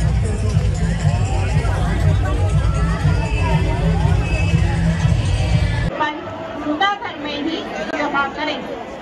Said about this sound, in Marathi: खूप म्हणजे खूपच गर्दी आहे